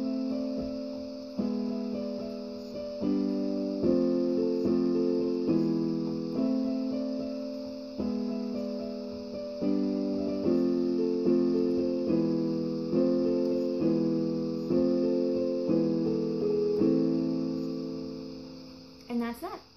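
A piece on organ with the left-hand part added, full sustained chords shifting every second or so beneath the melody, loud and clear with no talking, ending in a soft closing note.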